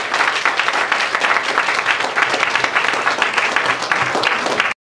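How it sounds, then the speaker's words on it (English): An audience at a Christmas party applauds, a dense and steady burst of clapping from a crowd that holds loud and even for about five seconds before it cuts off abruptly. "a big round of applause"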